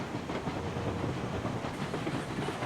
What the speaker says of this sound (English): It is barely lugging up the hill.